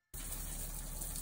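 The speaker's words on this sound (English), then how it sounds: "Here's the sound of a woman who's been showering in an RV for a year, having a real shower." Water gushes hard from a shower onto a newly sealed cobblestone floor made from local stones, a steady, close, dense spray that starts abruptly and runs on alone.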